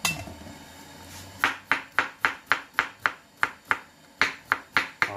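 A knife chops rapidly through salted pickled cucumber on a cutting board, about a dozen crisp, evenly spaced strikes close up, with no talking.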